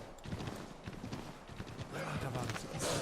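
Hooves clip-clop in a quick galloping rhythm as a horse runs in the video game Assassin's Creed 3, mixed with game effects and a person talking over it.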